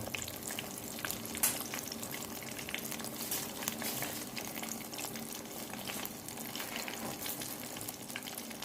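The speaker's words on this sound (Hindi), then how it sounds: "इसके बाद ऑयल में तलने के लिए छोड़ देंगे" Fish pakora pieces coated in spicy masala sizzle steadily in hot oil in a kadhai, a dense continuous crackle with small bubbling pops, close and fairly loud, with no voices.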